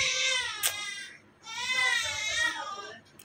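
A young child cries nearby at a Mumbai beach outing: two long, wailing sobs with a rising and falling pitch and a short gasp between them, loud and close, with no other voices.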